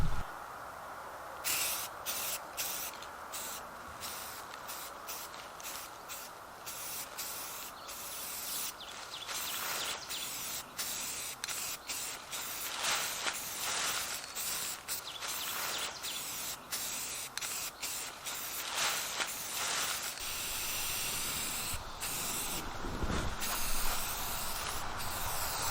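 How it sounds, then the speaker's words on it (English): Black spray paint hisses from an aerosol can outdoors on a windy day, long steady bursts broken by brief pauses, close and fairly loud with wind buffeting underneath. "The wind is blowing as soon as I start spraying."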